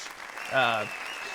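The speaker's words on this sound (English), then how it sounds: "A round of applause for his courage." Steady, applause-like clatter from the video game Yakuza 0 runs throughout, with a short humming tone swelling briefly in the middle.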